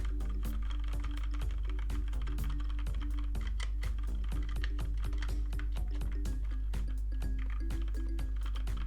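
Rapid keystrokes on a mechanical keyboard fitted with TTC brown switches, picked up from about 15 cm above; dense, steady clicking and clacking runs throughout with no voices.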